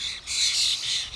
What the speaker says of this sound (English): I'm hearing so many different birds today.